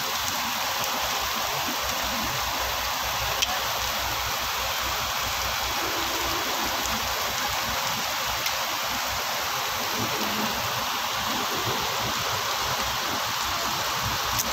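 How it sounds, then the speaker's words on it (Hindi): Heavy rain pours down in Makkah, a dense, steady hiss of water with a constant roar, continuous and loud throughout with no voices. "बहुत ज़्यादा बारिश है, बहुत ज़्यादा बारिश हो रही है।"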